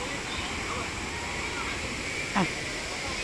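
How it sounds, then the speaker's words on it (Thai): Wang Phaya Yen waterfall in Saraburi, a busy picnic and swimming spot, gives a steady broadband rush of falling water, close and constant, with a brief louder splash near the end. "ที่นี่น้ำตกวังพญาเย็น"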